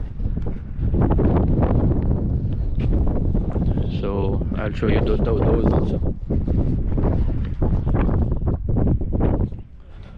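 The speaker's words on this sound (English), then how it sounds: "It's very windy." Strong wind at the Aral Sea in Uzbekistan buffets the microphone in loud, continuous gusts while a person speaks briefly over the roar.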